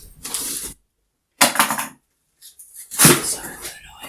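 Plastic packaging crinkling and tearing as it is pulled off a luxury homeware box during unboxing, three loud close bursts of rustling separated by short pauses.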